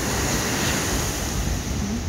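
Ocean surf breaks on a shore in Japan on a warm late-October day: a steady, loud, continuous roar of waves and rushing water, with wind noise on the microphone and no talking.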